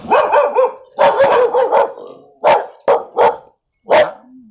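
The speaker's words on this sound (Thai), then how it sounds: "เจอมาเห่าข้างบนด้วย" Several dogs at a hilltop Buddhist temple bark loudly and close by in quick, repeated bursts of yips and barks, separated by short pauses and ending in a brief whine.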